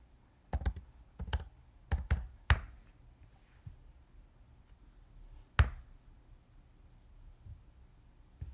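Keystrokes on a computer keyboard while entering a search for an Arduino sensor kit library in software: a handful of sharp, irregular clicks in small clusters, fairly close and quiet, with no talking.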